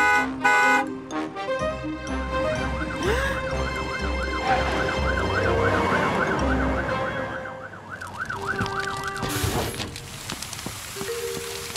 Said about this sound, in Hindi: फियोना का सायरन उन्हें सुनाई नहीं दे रहा।